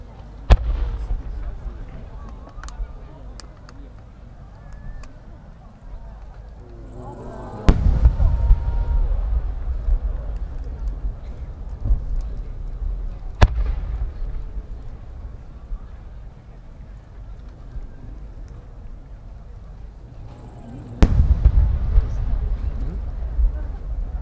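Fireworks at the Omagari fireworks festival in Akita, Japan, with three big booming bursts spaced several seconds apart and a crackling rumble of smaller shells between them, all heard from a distance while a voice speaks over the display.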